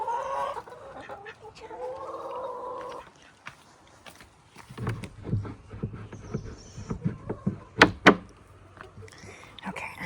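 Backyard chickens clucking after strong winds, with short sharp clucks and calls clustering close by in the second half, a person talking quietly earlier.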